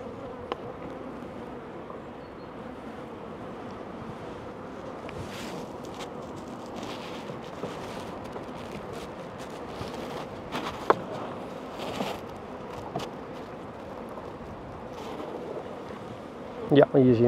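Honeybees humming steadily around an opened hive during a brood check, a continuous soft buzz close by with brief rustles and a louder burst of handling noise at the very end.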